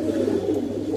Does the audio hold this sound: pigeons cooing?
yes